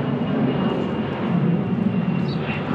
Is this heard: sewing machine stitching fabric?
no